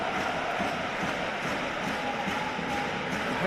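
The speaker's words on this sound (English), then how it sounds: "Crowd in Salzburg get a little louder" Football crowd in Salzburg at a Red Bull Salzburg versus Mjällby AIF Europa League qualifier, a broad continuous stadium roar of supporters swelling slightly as the home side pushes forward.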